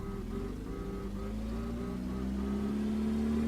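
A car engine holds a steady drone that climbs slowly in pitch as it revs and accelerates during a test drive, loud and continuous from start to finish.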